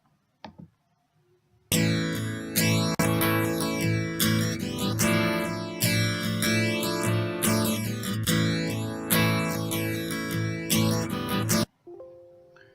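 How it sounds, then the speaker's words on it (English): A flanger effect built as a Simulink DSP model sweeps repeatedly through a loud, sustained music passage, rising and falling in regular cycles for about ten seconds before stopping. "So you could hear the kind of sweeping effect in the background there"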